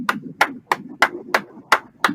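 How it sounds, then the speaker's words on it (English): Seven or eight sharp, evenly spaced claps ring out close by, a slow rhythmic round of applause for guest Lanell "Steel Hands" Brown. "Give our brother Steel Hands Lanell the General a round of applause."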